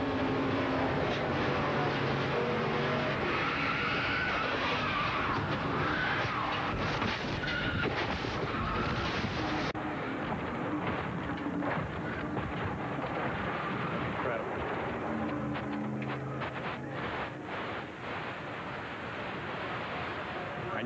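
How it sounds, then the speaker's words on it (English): Race car crashing and tumbling at the 1996 ARCA Daytona 200, heard from the in-car camera: loud, continuous roaring noise with repeated heavy thumps as the car strikes the ground, sustained throughout. "You could hear every time the car hit the ground, it took another tumble."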